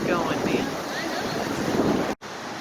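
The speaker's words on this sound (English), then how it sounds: "Fast that water's going, man." Fast-flowing river water rushes as a steady, loud broadband wash close by, with some wind buffeting, broken by a brief cut near the end.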